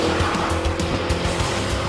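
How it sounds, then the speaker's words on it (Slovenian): Tires squeal as a 2012 BMW M5/M6 brakes hard under its two tonnes of weight, a loud, sustained screech close by with engine noise beneath it. "Zavori so sicer vrhunske, ampak ustaviti 2 toni ni šala."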